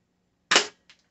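A single sharp crack of a cheap UKARMS P618SB spring airsoft pistol firing a BB, loud and close, followed by a faint click.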